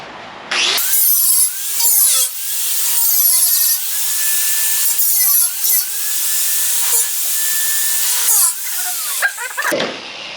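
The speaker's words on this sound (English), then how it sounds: "So we'll grind it from the top and just call it good." An angle grinder works over weld spots on Range Rover Classic floor supports, loud and close, whining in bursts with changing pitch as it bites the steel, spinning up and winding down at the ends.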